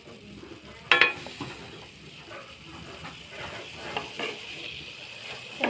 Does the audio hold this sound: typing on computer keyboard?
no